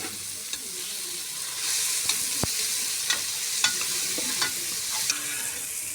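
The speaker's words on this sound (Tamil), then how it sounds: "நல்லா பொன்னிறமாக வதக்கிக்கோங்க" Mushroom biryani ingredients sauté in a pan, a steady broadband sizzle of frying with spoon stirring and scraping clicks throughout, close and moderately loud, no voices.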